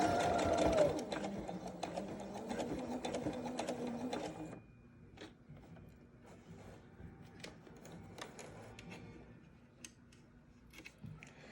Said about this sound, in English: you need to sew along the edge and maybe push it along so that it doesn't get stuck